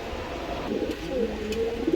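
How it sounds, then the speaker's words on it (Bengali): A pair of pigeons coo softly at close range, a few low, drawn-out calls over a faint room hum, with no voices. "এখানে এক পেয়ার কবুতর আছে"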